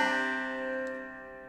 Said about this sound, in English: So the first thing you want to do is tune your banjo into double C tuning.